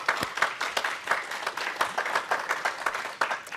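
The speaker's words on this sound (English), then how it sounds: "So please give Karen a round of applause" A modest audience applauds at an event celebrating a skills program, scattered individual claps at a moderate, fairly quiet level, heard alone without speech.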